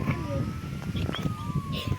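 A fire truck siren wails steadily in the distance, its tone slowly sliding, beneath street noise and people talking nearby.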